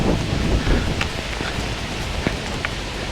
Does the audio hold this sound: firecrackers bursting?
no